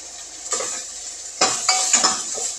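Onion, dried red chillies and curry leaves frying in a pan for a buttermilk curry, heard as a faint hiss broken by several bright metal scrapes and clinks of a spoon against the pan, with no voices.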